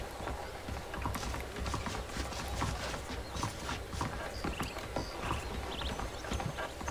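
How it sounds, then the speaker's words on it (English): Horse hooves clip-clop steadily in Red Dead Redemption, a continuous rhythmic clatter of a saddled horse walking close by with no talk over it. "The horses are saddled up over here."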